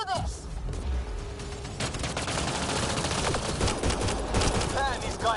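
Rapid bursts of automatic gunfire from the video game Mass Effect Andromeda fill the scene, dense and continuous with booming impacts, while voices shout over the fighting.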